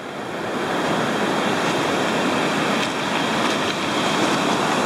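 Ocean waves pound an agate-hunting beach in a steady, roaring wash of surf, close and loud, with some wind noise and no voices heard.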